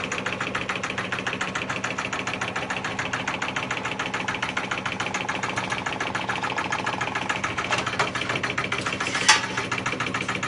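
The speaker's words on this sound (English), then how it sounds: "So first, turn your pump on, pull back on the 1/2 inch clear tubing" Pump running on a Stoelting DQU431/DQU421 soft-serve machine: a steady, even mechanical hum with a fine rapid pulse, constant throughout, with one short sharp tick near the end.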